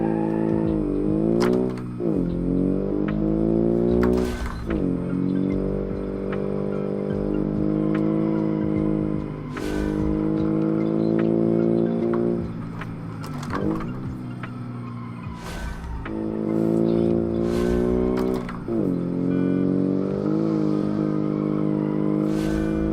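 A twin-turbo Subaru race car screams along at speed in BeamNG, its engine revving up and down through repeated gear changes with sharp shifts and brief lifts, loud and continuous throughout.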